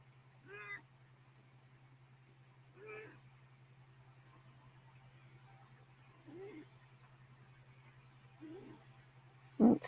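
A house cat gives four short, faint meows spread a couple of seconds apart, set over a steady low electrical hum, with a brief louder knock right at the end.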